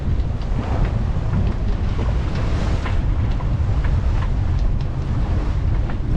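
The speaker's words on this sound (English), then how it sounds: "Crashed down a couple of waves there." A boat pounds through a heavy sea swell off Scotland in strong wind, with loud continuous wind buffeting, rushing water and repeated thuds as the hull crashes down over waves.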